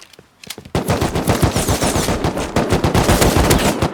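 Machine gun fire in a PUBG mod of the Rust video game starts with a few scattered shots. It then breaks into a loud, sustained automatic burst of rapid, evenly spaced reports that runs to the end, with no voices.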